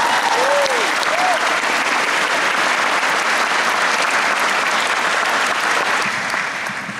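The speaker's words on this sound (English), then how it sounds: "how about a round of applause for Stella Assange?" A large audience applauds for Stella Assange, a broad, sustained roar of clapping that holds strong throughout and only eases slightly at the very end, with a couple of faint whistles early on.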